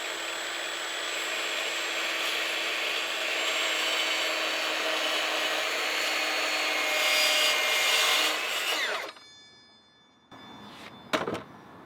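A Milwaukee M18 FUEL 8-inch metal cutting circular saw cuts through steel about an inch thick, a loud, sustained high whine that rises slightly before the blade winds down, then a few sharp clanks close by.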